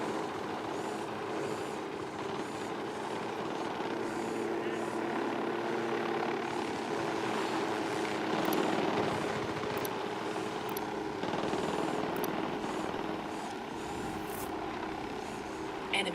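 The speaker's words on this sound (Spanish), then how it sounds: "Drone is airborne." A small drone hums steadily overhead during a Ghost Recon Wildlands co-op mission, a continuous buzzing whir with faint gunfire and game sounds around it.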